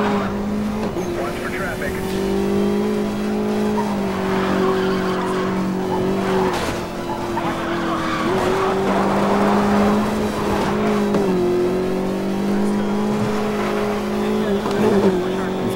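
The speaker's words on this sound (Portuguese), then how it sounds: "Vamos, derrapei sem necessidade ali." Tires squeal and skid in Need for Speed Most Wanted 2012 as a race car's engine drones steadily at high revs, the screech rising and falling across a long loud stretch while someone talks over it.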